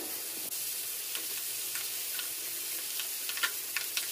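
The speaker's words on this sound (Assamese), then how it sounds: "এয়া হালধি দি ভালদৰে মাছখিনি মই লৰাই ল'লোঁ।" Fish coated with turmeric sizzles steadily in hot oil, with soft scattered clicks and scrapes as it is stirred in the pan, fairly quiet and close.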